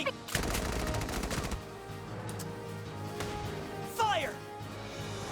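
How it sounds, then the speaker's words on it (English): Gunfire in the tactical war video game Valkyria Chronicles 4: a dense burst of rapid automatic shots, then quieter battlefield noise and a short whistling sweep, with in-game voices shouting over the fighting. "Shots fired!"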